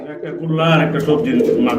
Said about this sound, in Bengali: বন্ধুরা দেখতে পাচ্ছেন কত বড় সাইজের কবুতর